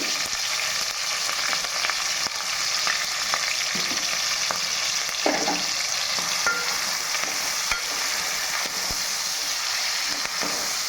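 Sliced onions and curry leaves fry in hot oil for a chicken curry, giving a continuous, even sizzle throughout with a few light spatula scrapes and taps.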